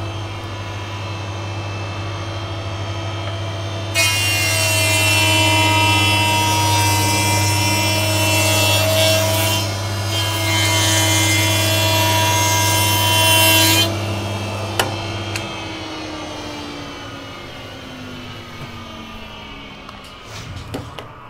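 A saw makes a milling pass through a green log: a steady motor hum runs throughout, with loud cutting noise for about ten seconds before the blade exits and the motor winds down alone.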